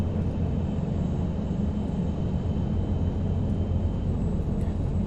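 Turboprop aircraft engine in the X-Plane 11 flight simulator, a loud, continuous roaring drone with a steady low rumble and no talk.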